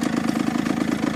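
A motorcycle engine runs steadily in first gear with the rear wheel lifted and spinning freely, a loud, close, even mechanical drone with fast regular pulsing and no voices.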